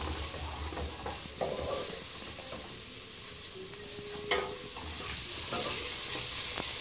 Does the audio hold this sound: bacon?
yes